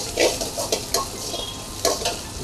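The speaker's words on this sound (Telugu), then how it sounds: "ఇప్పుడు పచ్చిమిర్చి వేసుకున్నాం" Green chillies sizzle in hot oil in a pan and are stirred with a utensil, a close crackling hiss broken by several quick scraping strokes.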